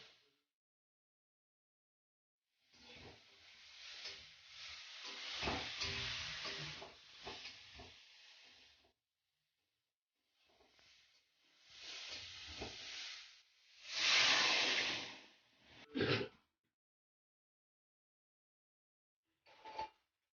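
Fish curry simmers in a pot, giving soft, intermittent hissing and bubbling in several separated bursts with quiet gaps, fairly faint and close, with no talking.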